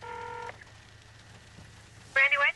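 Cellular phone dialing tones: a held multi-tone beep at the start, quiet background, then another bright tone burst near the end, clear and close.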